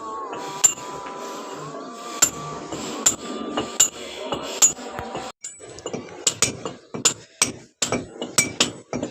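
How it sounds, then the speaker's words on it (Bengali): A hammer chips away at a concrete roof surface during rooftop construction, giving sharp, ringing clinks that land in an irregular series of close, loud strikes with brief gaps between them. "এখানে ছাদ খুঁটানো হচ্ছে।"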